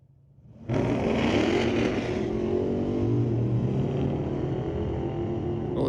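A 2018 Dodge Charger and a 1966 Chevy II launch in a drag race at a street-legal drag night, the Charger struggling for traction; a loud, sustained engine roar kicks in abruptly after a quiet start and holds steady, close by.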